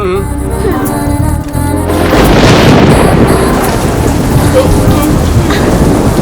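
Steady heavy rain pours down with deep rolling thunder rumbling through it, loud and continuous, with no voices.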